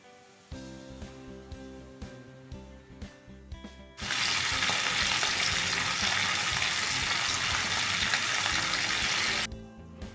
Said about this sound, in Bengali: তেলকে বেশ ভালো মতন ধোঁয়া ওঠা গরম করে এখন এর মধ্যে দিয়ে দিচ্ছি একে একে নুন হলুদ মাখিয়ে রাখা মাছের পিসগুলো